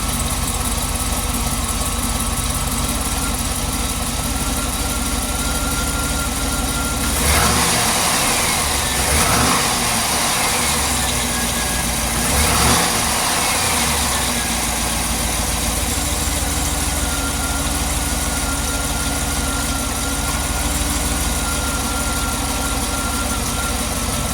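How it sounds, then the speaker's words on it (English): A Cadillac Escalade V8 misfiring across a whole cylinder bank idles roughly and unevenly, with two short rev bursts rising over the loud, constant engine drone and no speech. "Let me rev it up a little bit"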